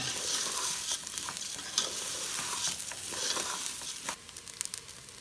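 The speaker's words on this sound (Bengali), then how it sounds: "তার মানে চালটা ভাজা ভাজা করতে হবে" Raw rice frying dry in a hot pot for Egyptian rice, with a spoon scraping and stirring through the grains in repeated strokes over a soft continuous sizzle, close and fairly quiet.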